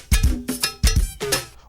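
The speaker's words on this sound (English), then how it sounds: "lock that thing in the socket. It's going to sound like this." A go-go band groove dropped into a tighter socket feel: four punchy percussive hits with deep drum thumps and cowbell-like clanks, played in a steady syncopated rhythm, close and loud with no talking.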